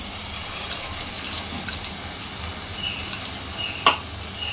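Overnight-soaked moth beans (matki) for misal sizzle in hot oil as a steady, fairly loud hiss that stays even throughout, with a single sharp click near the end.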